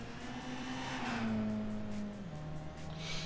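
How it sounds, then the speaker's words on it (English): A race car engine in Gran Turismo 5 holds a steady high drone near seven thousand rpm, pitch gradually dropping then easing up again, loud and continuous with no talking. "Yeah, he's revving to almost 7 grand."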